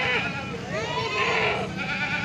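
Goats at a Jakarta livestock market ahead of Eid al-Adha bleat in wavering, overlapping cries close by, over a busy background with voices.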